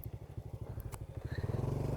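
A stock Honda Wave 100 motorcycle idles and revs unevenly on rough mountain terrain on Mount Ugo, its engine pulsing loudly and close, with a brief scrape or knock partway through.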